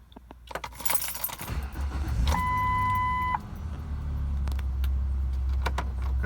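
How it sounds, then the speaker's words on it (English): Keys jangle, then the engine of a 2005 Ford Explorer Sport Trac Adrenalin with 102,000 miles catches on a cold start inside a garage and settles into a steady low rumble, with a brief chime tone partway through. "This is going to be a cold start."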